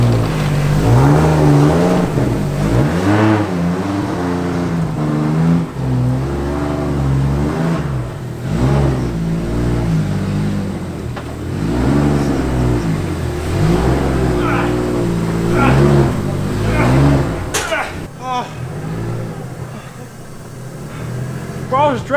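An RB25-swapped Nissan S14 Silvia at a track day, its engine loud and close as it revs up and down in repeated rising and falling sweeps while being driven, with voices now and then over it.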